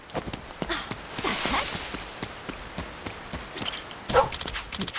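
A dog in Like a Dragon: Infinite Wealth barks a few short times and whimpers, mixed with steady footsteps and light tapping.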